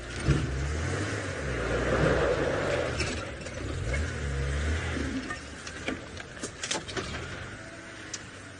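A 4x4 safari vehicle's engine labors and revs in low, uneven surges on a sunset game drive, the rumble swelling and easing repeatedly with some rattling and clunks toward the end.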